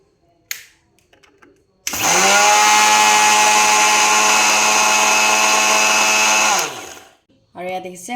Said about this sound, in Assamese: এতিয়া মই প্ৰথমতে চেনিখিনি গ্ৰাইণ্ড কৰি ল'ম